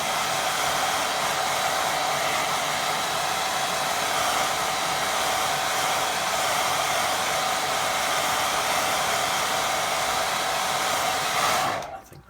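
A hair dryer blows steadily and loudly on a watercolour painting for about twelve seconds, a continuous close whoosh that cuts off abruptly at the end.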